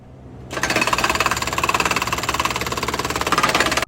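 A jackhammer's rapid, rhythmic mechanical hammering starts abruptly and pounds steadily without pause against a large boulder, loud and close.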